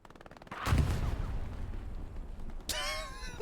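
Explosions and gunfire in the video game Hell Let Loose: a heavy boom erupts and rumbles on, followed by a second sharp blast with ringing, crackling debris, loud and close.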